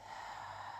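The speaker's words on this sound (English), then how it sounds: "push the breath out of the belly" A single forceful yoga breathwork exhale pushed out from the belly, a steady breathy rush of air, close and faint, with no speech.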